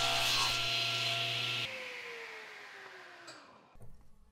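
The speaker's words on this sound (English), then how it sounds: "I'll be cutting the blank down on my crosscut sled" A wooden pen blank is cut on a crosscut sled at a table saw, a loud steady whine and rasp that runs down and slowly tapers off, then a few quiet clunks at the end.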